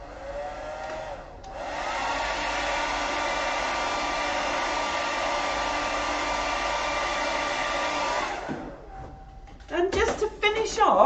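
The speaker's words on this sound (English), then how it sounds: "Okay, hairdryer again." Hair dryer blowing on a watercolour rose painting, a steady loud whir running about seven seconds with a short start before it, then switching off into brief movement and clatter.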